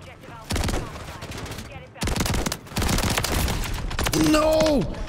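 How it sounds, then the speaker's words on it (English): A full-auto shotgun firing in the video game Modern Warfare 3: two long, loud strings of rapid blasts split by a short pause, with a rising whine and electronic tones near the end. "I got the full auto shotgun."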